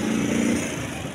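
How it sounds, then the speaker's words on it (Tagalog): A Supremo motorcycle engine runs with a steady, close, droning hum. "Yan, Supremo naman ang kanyang gamit na motor."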